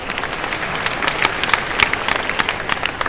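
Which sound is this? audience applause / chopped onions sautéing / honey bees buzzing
audience applause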